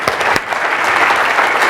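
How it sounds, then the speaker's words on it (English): Audience applause for a speaker at a Techstars FounderCon event, dense continuous clapping from a large crowd, loud and steady with no pauses. "So let's give it a round of applause for Bob."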